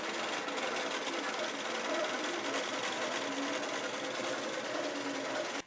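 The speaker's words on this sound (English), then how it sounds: "So I just finished stitching out my shorter border" A QCT 6 Plus quilting machine stitches out a quilt border, a steady mechanical whirring hum with rapid needle clatter running continuously at an even pace before stopping abruptly.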